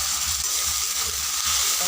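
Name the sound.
spice paste sizzling in pan after adding water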